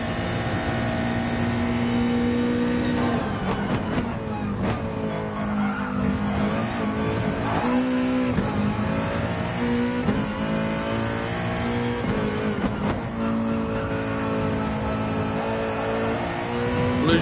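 A Nissan race car in GT Sport laps Monza, its engine droning loud and continuous with sustained high revs, rising and falling pitch through gear changes, brief tire squeal in corners, and no talk.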